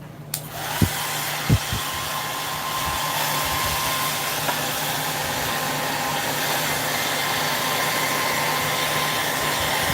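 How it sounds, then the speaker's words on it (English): A hair dryer runs steadily, drying a craft project: a continuous loud whirring blow that starts abruptly after a few faint taps and holds constant throughout, with no talking. "I know I hate to use the hair dryer with the noise, but I want to go ahead and dry it."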